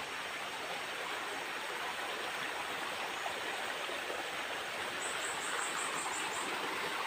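A forest stream branching into several channels as it runs uphill toward the woods, giving a steady close rush of flowing water with no talk, and faint high chirps, likely a bird, near the end.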